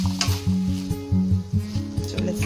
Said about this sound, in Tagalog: So, let's just mix it